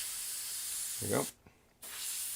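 An airbrush sprays in short hissing bursts while being cleaned out, a close steady hiss broken by a brief quiet gap. A voice murmurs faintly partway through.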